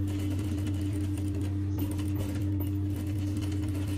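Sewing machine stitching the round seam of an Arabic kandura, a steady, continuous mechanical whir and rapid needle patter running close and alone throughout.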